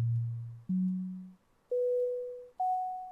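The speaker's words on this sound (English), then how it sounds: "I have just a sine wave" A plain sine tone from an Absynth 4 synthesizer sounds alone as four clean, steady notes, each stepping higher in pitch, with short gaps and a brief dip between the second and third.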